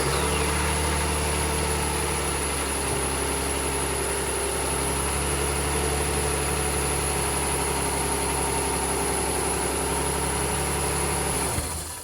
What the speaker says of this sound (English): He's going to go ahead and start the vehicle now.